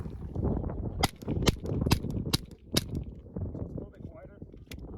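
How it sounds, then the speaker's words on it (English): Suppressed pistol shots from a .358 MG7 suppressor run wet with 147 grain ammo crack out in a quick string of about seven sharp reports, close, over indistinct background chatter. "we'll see what they sound like now. This is a same ammo, 147 grain."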